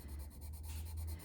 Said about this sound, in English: So with the watercolor pencil, you can use it just like this